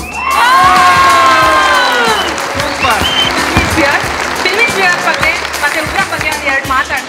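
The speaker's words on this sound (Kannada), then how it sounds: "ಚಪ್ಪಾಳೆ" A lively crowd at a film's 125-day celebration in a Bangalore mall claps and cheers with whoops and shouts, loud at first and then breaking into scattered claps and voices.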